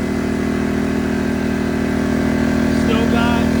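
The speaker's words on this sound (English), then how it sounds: "Compressor is still filling up." A Firman generator runs steadily and loudly while a Bosch 6 gallon air compressor fills, giving a constant mechanical drone with a faint voice near the end.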